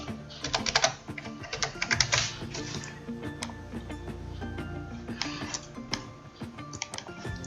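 Fingers type a password on a computer keyboard, producing quiet, close, irregular clicks and taps in short bursts with brief pauses between them.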